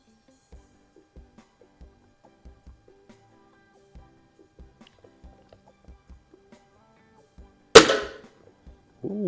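A Cometa 300 .177 break-barrel air rifle fires a pellet with a single sharp, loud crack, preceded by faint, sparse clicks and handling taps.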